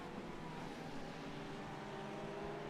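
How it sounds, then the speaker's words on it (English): Race car engine from a sim racing series at the Zolder circuit, a Mercedes-liveried car leading the pack, producing a steady, loud droning engine roar that holds throughout with no gaps. "Big, big noise from that car."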